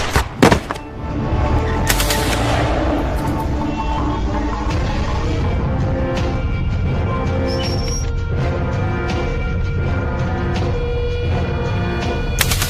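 Firecrackers bursting outdoors at night in a rural area, a rapid volley of sharp cracks and pops followed by scattered bangs over a steady background hum, with no talk.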